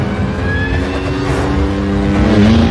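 A stunt motorcycle engine running at speed while lining up a Mission Impossible 7 stunt jump, a steady, loud mechanical drone with pitch slowly rising toward the end, no voices.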